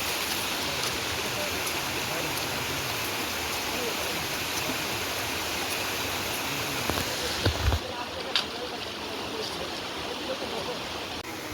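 A river flows steadily along a forest riverbank, a constant broad rushing wash of water that stays loud and even throughout, with a few faint knocks near the end.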